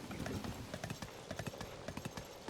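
Horse hooves clip-clopping in the video game The Legend of Zelda: Tears of the Kingdom, with something dragged behind the horse; a steady, fairly loud run of hoofbeats with a faint voice underneath.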